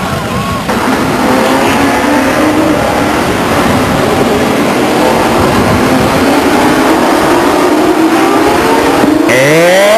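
Race car engines fire up and rev together at Stockton 99 Speedway during a 1999 Southwest Series race, making a loud, continuous roar, with one engine's pitch sweeping sharply upward at the end.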